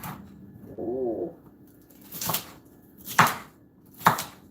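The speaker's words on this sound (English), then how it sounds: "I'm gonna cut them, and then after that, I'm going to blend them." A knife chops vegetables in a home kitchen during meal prep, producing a few sharp, separate cuts spaced about a second apart after a soft cooing bird-like sound near the start.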